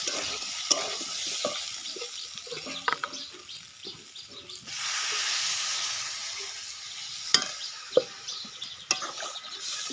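Prawn vegetable curry stir-fried in a pan, a continuous close sizzle and hiss with repeated spatula scrapes, a louder surge of frying noise in the middle and a few sharp knocks near the end.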